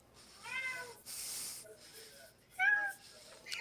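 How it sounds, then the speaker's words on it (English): A cat meows several times nearby, short rising and falling cries spaced across a few seconds in an otherwise quiet room, with a brief burst of rustling between calls. "You hear the cat? You hear the kitty?"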